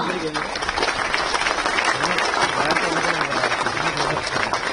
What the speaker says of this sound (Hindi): लगातार और जोरदार तालियों की गुजारिश करती हूं आप सभी से